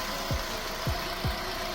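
A Chevrolet Gentra or Cobalt engine idles after a valve repair with a steady hum, broken by three faint, evenly spaced low thumps.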